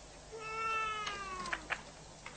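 A house cat lets out one clear, drawn-out meow at moderate distance, followed by a couple of light clicks.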